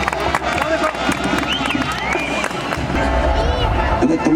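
A crowd at a jaripeo in Santa Fé de la Laguna, Michoacán, claps and cheers amid shouts and whistles, a busy, noisy outdoor mix with scattered voices throughout.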